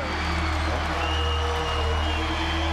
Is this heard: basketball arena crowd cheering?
yes